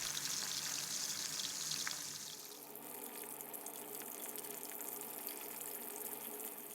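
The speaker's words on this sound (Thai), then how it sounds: "ให้เรานำปลาส้มของเราไปทอดให้ผิวด้านนอกของเขาสุกเหลืองเลยนะครับ" Pieces of fermented fish cake fry in oil over medium heat while being turned, giving a steady close sizzle that is louder for the first two seconds and then settles into a quieter hiss.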